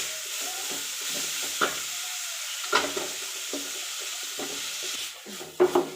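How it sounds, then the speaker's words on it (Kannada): Chopped coriander frying in a pan for kotibir vade, a quiet steady sizzle broken by several sharp scraping stirs and clinks, with a brief watery splash near the end and no voices. "ಚೆನ್ನಾಗಿ ಫ್ರೈ ಮಾಡ್ಕೊಳ್ಳಿ."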